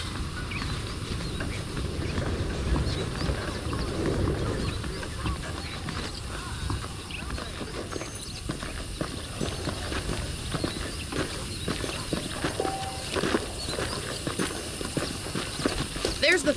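Horse hooves clip-clopping at a steady walking rhythm in the Red Dead Redemption video game, close and continuous, with someone talking over it and faint outdoor ambience.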